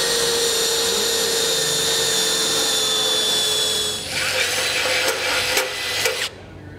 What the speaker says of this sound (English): I'm actually going to use a burr bit to clean